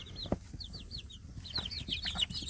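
Free-range village chicks chirp in high, quick repeated peeps out in warm midday sun, close and fairly quiet, with a few soft clucks and thumps around them.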